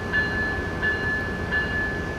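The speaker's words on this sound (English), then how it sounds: "So here it is, Amtrak train number 714" Amtrak passenger train 714 at Oakland Jack London Square station gives steady, fairly loud rail rumble with repeated high tonal squeals or whistling rings recurring every second or so.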